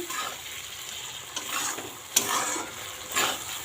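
Ridge gourd and jackfruit seeds sauté with black mustard in a pan, with a steady sizzle and several loud stirring scrapes from a spatula.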